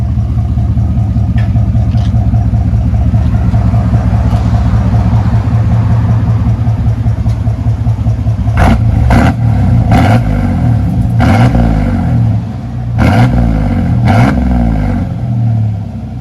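A pickup truck's 4.3 engine idles with a steady deep rumble, then is revved in several sharp blips near the end, loud and close with no talk over it.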